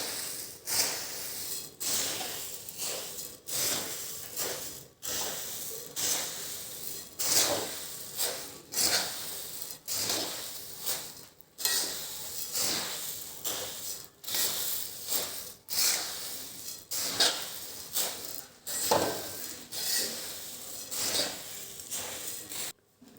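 Puffed rice (mamra) flavoured with garlic being tossed with salt in a bowl, giving a continuous dry rustling and scraping with repeated sharp stirring strokes, close and steady throughout with no talk.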